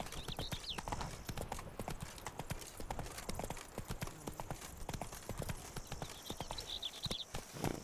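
Horse hooves clip-clop steadily at a walking pace in The Witcher 3: Blood and Wine, a dense run of close, crisp hoof strikes throughout with faint ambient game sound behind.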